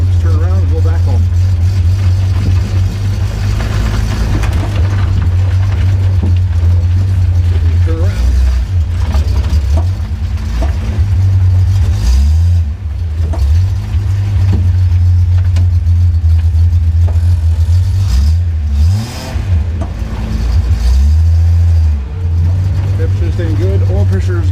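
A Datsun 240Z on a drive, its engine droning loud and close, rising and falling in pitch as it shifts down through the gears, with someone talking over it.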